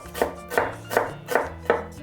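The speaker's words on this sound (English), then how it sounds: "Thinly slice the onions." Knife slicing onions thinly on a cutting board, with five evenly spaced crisp cuts landing close and clear, and no voices.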